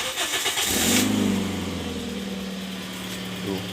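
A 2006 Toyota Yaris engine running close by, a steady mid-pitched hum that swells briefly as if revved, then settles into an even idle.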